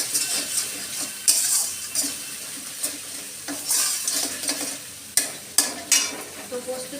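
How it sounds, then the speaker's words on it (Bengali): Spices are stirred and fried in a pan with turmeric, sugar and Kashmiri chilli powder. A utensil scrapes and knocks against the metal in irregular strokes over a steady sizzle, with a few sharp clatters. "দিয়ে দেবো একটু কাশ্মীরি লঙ্কার গুঁড়ো। দিয়ে এটাকে আমি কষতে থাকবো।"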